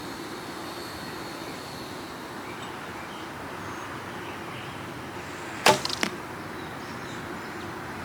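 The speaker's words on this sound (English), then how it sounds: "let's shoot this arrow at the Reinhardt target" A broadhead arrow shot from a recurve bow at an outdoor target: a short sharp release snap and a quick whoosh, then a second faint thud, all over a steady outdoor wind hiss.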